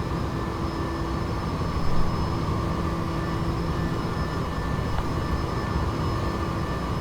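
A Bell 429 helicopter in the X-Plane 11 simulator drones with a steady, loud turbine whine and hum, unbroken and even throughout, with faint tonal lines holding constant.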